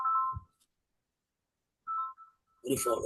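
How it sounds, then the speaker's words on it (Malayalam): An incoming call's ringtone sounds during a church history lecture as two short tonal bursts separated by silence. A voice follows right after. "എനിക്കൊരു ഫോൺ വരുന്നു."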